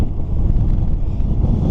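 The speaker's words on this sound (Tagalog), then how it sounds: "Pero kalakas ng hangin dito" Strong wind sweeps across open, unsheltered land, buffeting close to the microphone in a loud, rough, low roar that surges unevenly for the full stretch, with no voices.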